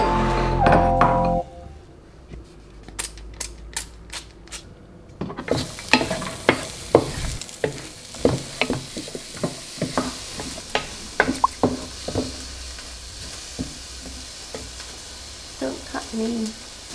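Garlic and onions stir-fry in a pan for Filipino pinakbet, with a gentle sizzle under irregular scrapes and clinks of a utensil against the pan, heard close up.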